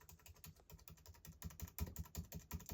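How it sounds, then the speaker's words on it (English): Keys on an iMac keyboard are pressed in quick succession, a fast, uneven run of soft clicks and thumps, faint and close with no talking. "Look, I'm just gonna press all of them."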